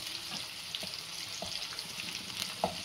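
Sliced spring onions frying in a pan for chilli paneer, a soft continuous sizzle with a few faint clicks of stirring, close and alone with no talk.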